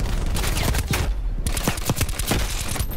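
Rapid bursts of automatic fire from the Type A21 rifle in Black Ops Cold War, dense loud shots rattling close, a brief pause, then another sustained volley.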